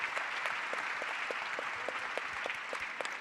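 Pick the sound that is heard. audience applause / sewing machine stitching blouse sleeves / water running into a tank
audience applause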